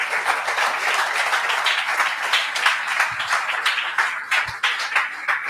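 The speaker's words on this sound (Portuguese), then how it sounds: "Dê um aplauso a Jesus." A church congregation applauds together, a dense burst of clapping that holds steady for several seconds with a few sharper claps near the end, no voices over it.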